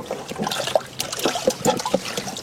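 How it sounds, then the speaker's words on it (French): Water trickles and splashes while rinsing the valve of a camping-car toilet cassette, an uneven, close dribbling with small gurgles and drips. "j'en profite pour rincer le clapet aussi"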